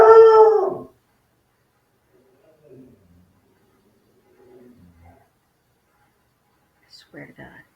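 A dog named Gypsy lets out a loud, close, tonal howl lasting under a second, followed by long near-silence broken by a few faint whimpers and soft whines, then a short burst of quiet noises at the end.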